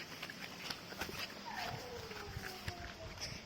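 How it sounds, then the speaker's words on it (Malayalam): A pet dog whimpers beside a large stream, a single thin drawn-out whine sliding downward, faint and distant beneath rushing water and scattered footsteps or taps. "നമ്മളെ പട്ടിയാണ് കരയുന്നത്."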